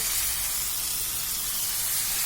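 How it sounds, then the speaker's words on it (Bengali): Okra tipped into a hot pan on a village clay stove, giving a steady, loud, broadband sizzle and hiss that holds evenly throughout with no talking. "এরপরে আমরা ভেন্ডিটা ঢেলে দিব"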